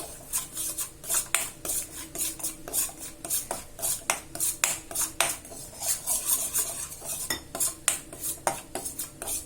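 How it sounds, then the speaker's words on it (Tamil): Wheat flour being stirred and roasted in a pan for a breakfast pasta dish, with a utensil scraping and clinking against the pan in a steady run of close, sharp taps and scrapes, no talking. "தீய விடாம வறுக்கணும்"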